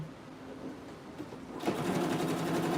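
A sewing machine stitches a skirt, a steady whirring drone that grows louder and busier partway through, running continuously without talk.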